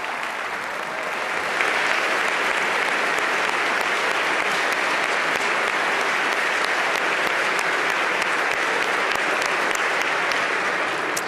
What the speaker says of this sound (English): we should all clap for our firefighters